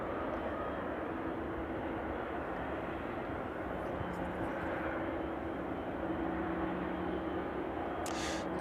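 Boeing 757 jet on final approach to East Midlands Airport, a steady distant engine roar holding level throughout, faint and continuous with a low hum beneath.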